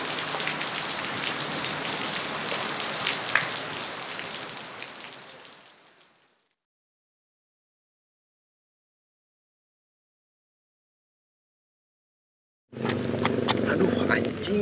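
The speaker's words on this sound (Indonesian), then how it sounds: "Hujan." Rain pours steadily onto a surface with a dense, even hiss. It cuts out abruptly partway through, then returns just as strongly near the end, with voices present at times.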